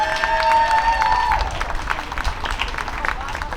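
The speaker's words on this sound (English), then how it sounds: "Let's have another round of applause for Councilwoman Alford." Audience at a City of Paterson inauguration ceremony applauding, a dense patter of clapping from a crowd heard nearby, with a voice talking over the start.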